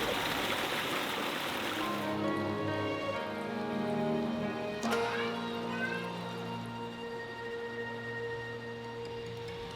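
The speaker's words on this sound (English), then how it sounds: "that's why you can see all the water rushing down underneath" Hot spring water rushing beneath a snow-melting road in winter Japan, a steady close hiss of flowing water with layered tonal hum beneath, continuous throughout and fairly quiet.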